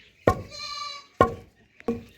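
A goat on a farm bleats once, a quavering call between loud pounding thuds of rice being hand-pounded in a mortar, landing at a steady pace close by.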